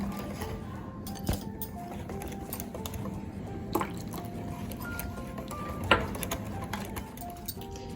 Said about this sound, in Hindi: इस तरीके से मिक्स करते रहेंगे ताकि हमें पता चले कि हमें इसमें कितना वाटर चाहिए।